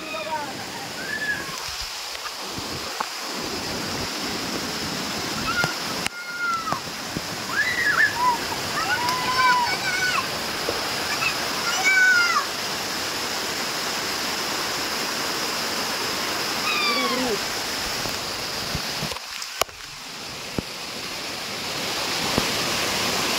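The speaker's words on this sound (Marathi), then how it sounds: "छोटासा आहे गावाकडचा वॉटरफॉल, तर तुम्ही बघू शकता." A small village waterfall in a forest gives a steady, broad rush of falling water throughout, with occasional splashes and some birdsong over the top.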